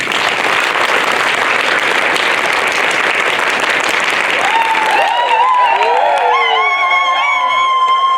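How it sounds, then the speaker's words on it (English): A large live audience claps in a fast, dense roar for several seconds, then bursts into loud whooping and cheering with high yells rising above the fading applause, all close and full. "everybody's going to clap the alphabet really fast. When you get to the end of the alphabet, you're going to go absolutely crazy"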